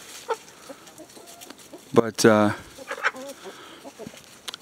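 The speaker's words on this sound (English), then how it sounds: "That's a mean chicken right there." A young, ill-tempered hen that is regrowing its feathers clucks in a short, loud burst partway through, with a few softer clucks around it, while a person speaks nearby.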